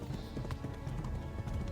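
Horse hooves gallop at a steady, rapid rhythm in the medieval video game Kingdom Come: Deliverance, fairly quiet and close, with no other sounds over them.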